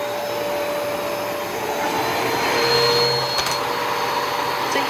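Kenmore Progressive canister vacuum cleaner on max power, a steady continuous motor roar with a faint high whine, close and loud throughout.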